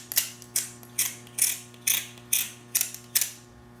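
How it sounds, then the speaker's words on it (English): A blade scrapes plastic off a slingshot grip cut from a five-gallon bucket, making about nine evenly spaced rasping strokes close by, with a steady hum underneath. "it doesn't take long at all to take off quite a bit of material when you're scraping like that"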